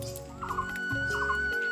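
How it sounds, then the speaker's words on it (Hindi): Two short fowl-like calls ring out at dusk in a hill-country setting, each a quick warbling gobble repeated after a pause, standing out clearly over a low background hum. "आप लोग ये चिड़िया की आवाज़ सुने"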